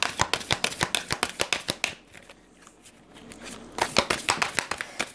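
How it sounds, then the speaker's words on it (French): Tarot cards being shuffled by hand, with rapid rhythmic riffles and flicks in two bursts separated by a short quieter pause, all close and crisp. "on va prendre un petit peu des cartes du tarot pour compléter"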